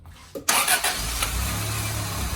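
A 1987 Toyota Corolla AE86 with a failing alternator cranks briefly and fires up, then settles into a steady, low, rough idle, loud and close with no talk.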